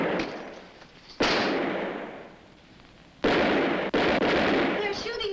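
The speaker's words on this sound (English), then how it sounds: "They're shooting back." Gunfire erupts in a shootout as several loud, sharp blasts ring out with long echoing decays, close and booming, separated by gaps of a second or two.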